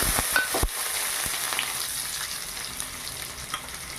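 Cut mango pieces drop into hot oil already tempered with dried red chillies, mustard seeds and whole cumin, giving a few sharp crackles at the start, then a steady close, loud sizzle that continues throughout with no voices.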